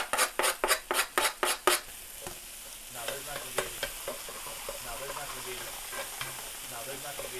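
Mexican-style pork chorizo sizzles in a pan. It opens with a quick run of about eight sharp, rhythmic scrapes from a spatula, then settles into a steady close frying hiss with occasional softer scrapes.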